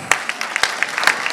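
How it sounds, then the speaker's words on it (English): A short burst of clapping from a small crowd, with scattered uneven claps that fade quickly. "Give one more clappity clap."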